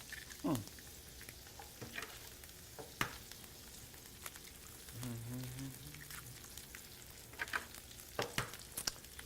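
Eggs cooking in a pan with soft, intermittent sizzling and a few clattering utensil taps and knocks, some mid-clip clinks, heard fairly faint and close with no voices.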